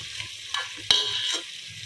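Onions with asafoetida sauté in a pan for sambar rice, a soft low sizzle with a couple of quick stirring scrapes and one sharper clink, brief and fairly quiet.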